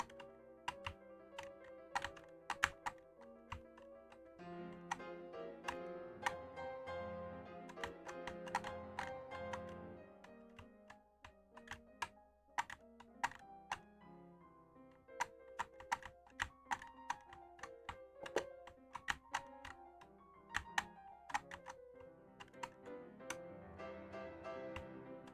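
Close-miked computer keyboard typing during a speed factory building game, with dense, irregular clattering keystrokes and sharp clicks throughout, layered over game music with no talking.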